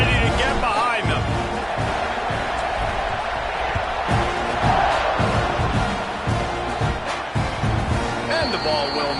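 Stadium crowd in an NCAA college football video game roars in a steady, dense wash as the kickoff is set up, with a commentator talking over it.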